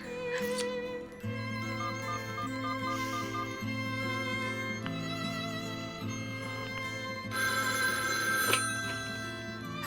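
A telephone rings with a steady electronic ringtone in a Turkish family drama, the tone sustained and fairly loud over a low background for about ten seconds, with no talk.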